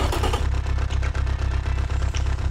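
An inline-4 car engine idles at about 1000 RPM in the game Automation, a loud, rough, mean-sounding rhythmic throb with regular pulsing beats repeating steadily throughout, no voices.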